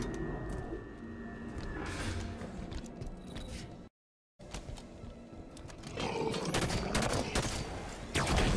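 Gunfire fills a Halo 5 Guardians battle against Hunters in a lab, with loud continuous bursts and roaring blasts that break off briefly, then return even louder.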